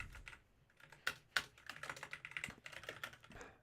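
Quiet typing on a computer keyboard, a loose run of soft key clicks with a few sharper taps, heard alone and close.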